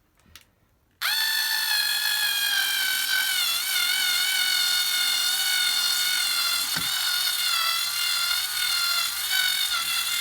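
A budget Black & Decker cordless electric screwdriver works on a plasterboard wall. After a brief quiet start its motor kicks in with a loud, steady, high whine that runs without a break, its pitch wavering slightly.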